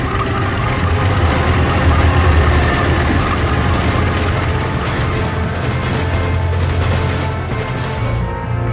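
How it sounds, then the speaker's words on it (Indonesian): Locomotive running steadily in an animated horror-comedy scene, a continuous loud low rumble with mechanical rattle and hiss throughout, no talk. "Kamu pun mengendarai lokomotif sampai jauh, dan ahli hanya bisa melihat kereta yang kamu kendarai dari kejauhan."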